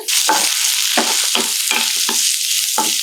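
Onions sizzle steadily in hot oil in a pan for rava idli, with a ladle stirring them in repeated scraping strokes; loud, close and continuous, with no voices.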